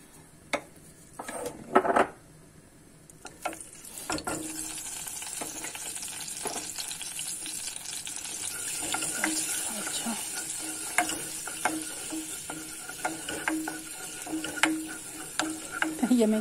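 Food for tarhana soup roasts in a pot with a soft continuous sizzle, punctuated by frequent clinks and scrapes of a spoon stirring against the metal, close up and without speech.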